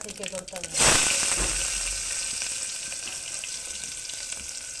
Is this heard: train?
no